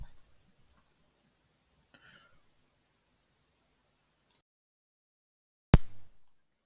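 A few soft computer mouse clicks in a quiet room, with one sharp, louder click near the end and faint ticks earlier, heard alone.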